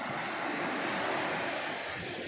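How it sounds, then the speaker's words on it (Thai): Ocean waves wash steadily onto Pattaya beach behind the Dusit Thani hotel, a continuous broad roar of surf mixed with wind noise, with no voices. "นี่ให้ดูบรรยากาศฟังเสียงนะครับคลื่นซัดสาดนะครับ"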